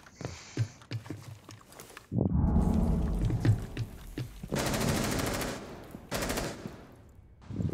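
Gunshots in the video game Rainbow Six Siege: a few scattered single shots early, then loud sustained automatic bursts with a rumbling tail, separated by brief pauses.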